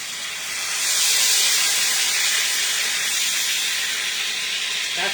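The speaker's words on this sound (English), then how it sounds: "That sizzle, yeah. Nice hot pan." Chicken sizzling in a hot pan dressed with an Italian-style dressing, a steady bright hiss that swells after the first second and holds, close and alone without talk.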